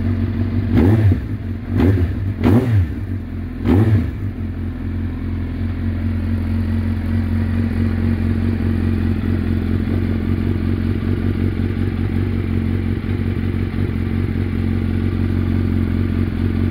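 Yoshimura-exhausted motorcycle with its catalytic converter removed, blipped four sharp times in quick succession before settling into a steady, loud, close idle.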